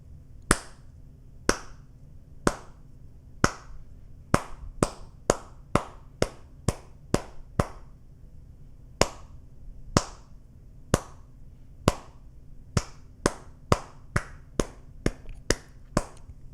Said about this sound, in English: I'll clap the rhythm in 4/4, and then I'll clap the rhythm in 2/2